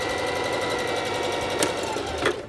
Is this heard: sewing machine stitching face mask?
yes